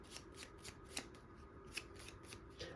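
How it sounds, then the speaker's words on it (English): Deck of game cards for a Lord of the Rings board game being shuffled by hand, quiet rhythmic riffling bursts repeating several times, close and soft with no talk. "I'm going to have to shuffle these up."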